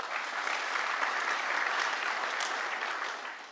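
Sustained applause from a conference audience, dense clapping that stays steady and fades slightly at the end.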